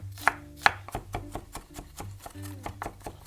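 A knife chops through a quarter of an onion on a cutting board: a few sharp, close knocks spaced apart, with faint voice and kitchen sounds in between.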